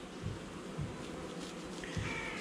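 Honey bees buzz around an open hive during a May inspection in a bee garden, a soft, constant drone with a few individual bees droning close by in short swells.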